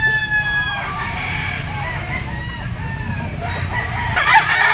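A full-grown gamecock stag crowing at a Philippine market, one clear close crow rising and falling over a murmur of background chatter and clucking.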